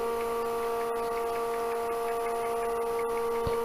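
A vacuum-chuck wood lathe runs at roughly 550 to 600 rpm, giving a steady, fairly quiet electrical motor hum with a few faint ticks and no voices.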